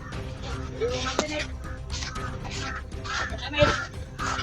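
Several birds call in harsh, scattered caws, with a sharp louder cry near the end, against a busy outdoor background.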